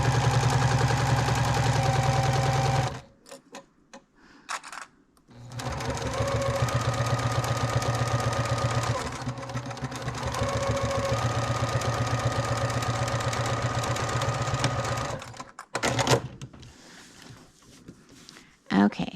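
A sewing machine backstitches a seam on a fabric project bag. It runs in a steady, loud, close-up whir for a few seconds, stops briefly, then runs again for a long stretch before quieter handling sounds follow.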